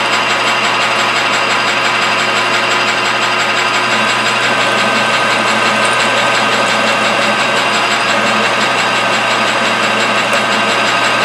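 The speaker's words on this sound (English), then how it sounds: "You just got to be patient drilling, especially really deep in something." A machine drills deep into metal, a dense, steady grinding drone with a constant low hum that runs unbroken and loud, with no talk over it.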